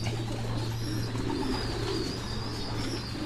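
Pigeons coo softly and continuously at a loft, low rolling calls under a steady background hum, with no talk.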